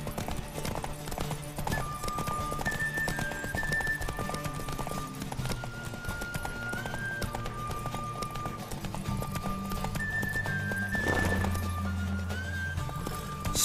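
Roach the horse's hooves clip-clop in a steady walking rhythm in The Witcher 3, set against game music and ambience, with a brief louder burst partway through.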